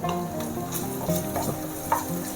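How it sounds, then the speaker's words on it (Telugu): Ginger garlic paste sizzles in hot oil while a spoon stirs it, giving a steady close crackling fry with soft scraping strokes throughout. "ఇది ఒకసారి మంచిగా కలుపుకొని నూనెలో అల్లం వెల్లుల్లి పచ్చివాసన పోయిన తర్వాత"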